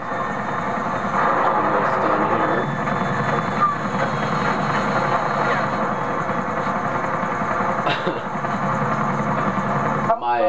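Helicopter in Grand Theft Auto 4 team deathmatch, a steady droning rotor and engine hum filling the whole stretch with a few brief clanks and a bump near the end.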